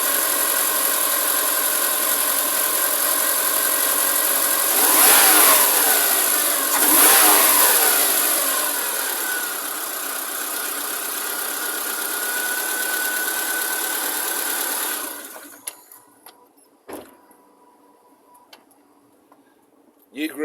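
A 2007 Subaru engine fitted with new Group N engine mounts and a transmission mount with a stiffening insert, idling close by with two sharp revs early on, then settling before cutting off into near silence.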